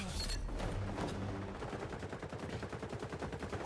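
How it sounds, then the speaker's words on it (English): Shotgun blasts in the shooter video game XDefiant, loud and close, starting with a heavy burst and then settling into a rapid, evenly spaced string of shots. "let's try out the shotgun"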